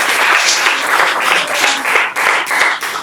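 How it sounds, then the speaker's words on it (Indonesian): A classroom group in Indonesia gets a round of applause, with dense, loud clapping from many hands filling the room close by for the whole stretch. "kasih tepuk tangan untuk kelompoknya ini"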